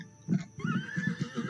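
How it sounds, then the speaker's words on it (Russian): A horse in a video game lets out a short whinny over a few soft hoof clops, close and clear. "Куда лошадь пошла?"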